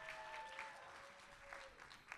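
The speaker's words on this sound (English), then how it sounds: "Let's give her a round of applause for her service to this caucus" Applause from an audience at an Asian American and Pacific Islander caucus meeting during the Democratic National Convention in Chicago, a faint, steady patter of clapping heard from a distance with no voices over it.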